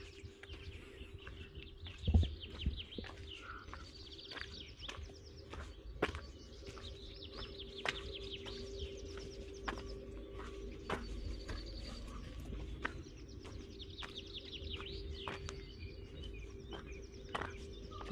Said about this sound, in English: As you can see, there are so many bird sounds here and so many trees.